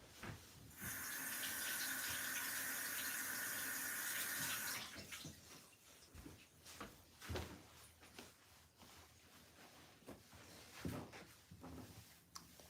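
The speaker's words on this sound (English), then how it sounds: "Let me go wash my hands." Tap water runs steadily into a sink during handwashing at home, a loud rushing stream for several seconds that then stops, followed by quieter splashes, drips and clatter nearby.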